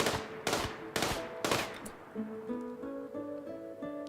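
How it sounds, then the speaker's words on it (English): Video game gunfire from a junker in a Gravship setting: four sharp, evenly spaced shots over two seconds, followed by a rising series of tonal electronic beeps. "Shoot a bit more."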